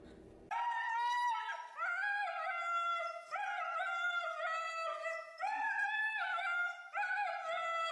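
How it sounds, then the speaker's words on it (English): A dog howls in a long, sustained, wavering cry that rises and falls in pitch for several seconds, continuous and fairly close with no talking over it. "Rocky and Bullwinkle used to howl like that all the time."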